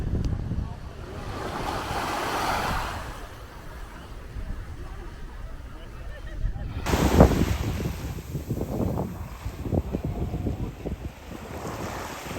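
Ocean waves washing ashore at Palm Beach, Aruba just after sunset, a broad rolling surf wash under heavy wind buffeting the microphone, steady and moderately loud with faint background voices.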